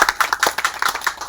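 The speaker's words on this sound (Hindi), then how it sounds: "आप तालियां में कंजूसी ना करें" Audience clapping at a welcome event at the Ramdev Baba temple in Batoda, a quick, steady run of close, crisp claps lasting just over a second.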